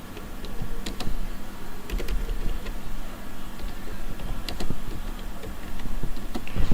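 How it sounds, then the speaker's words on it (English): Typing on a computer keyboard: steady, close, irregular key clicks and taps running continuously throughout, with no voices. "So let me just type it now."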